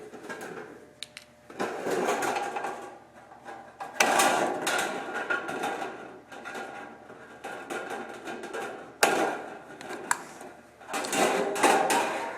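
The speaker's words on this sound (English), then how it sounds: "You just cut your notches out." Snips cut notches out of sheet metal for a field-fabricated HVAC duct elbow, giving bursts of rasping, crunching cuts separated by short pauses, close and fairly loud with a few sharp clicks.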